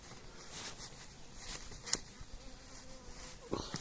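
Bees fly around a hive, making a faint, steady buzzing drone with a few brief clicks and taps near the hive.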